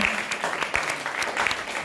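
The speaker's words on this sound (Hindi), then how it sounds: "तो पर्दे के पीछे से जिन लोगों ने काम किया, जोरदार तालियां उनके।" After a stage play, the audience gives loud applause for the backstage crew, a dense, continuous clapping from many hands throughout this short moment.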